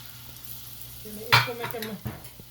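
Sweet potato slices, dipped one at a time, hit hot oil for crispy fries with a soft sizzle that swells sharply as a slice drops in. A few quieter bursts and light stirring scrapes follow.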